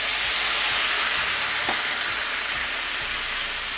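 Potatoes frying with turmeric in a pan, poppy seed paste with a little water going in, giving a steady, even sizzle that carries on alone at moderate level with a faint clink midway.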